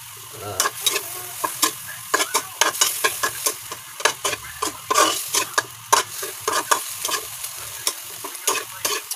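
A dish frying in a pan is stirred with repeated rhythmic scrapes and clatters over a steady low sizzle, close and fairly loud.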